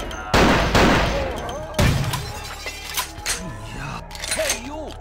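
Loud video game gunfire, a few heavy blasts with shattering bursts early on, then quieter scattered hits while someone talks over it.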